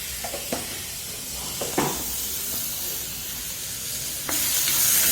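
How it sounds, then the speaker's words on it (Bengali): Red spinach with poppy seeds, peanuts and a little sugar being stirred in a pan, a constant frying sizzle broken by a few spatula scrapes and knocks, the hiss growing louder near the end. "পুরো জিনিসটাকে একটু নেড়ে নেব যাতে মিক্সিংটা প্রপার হয়ে যায়।"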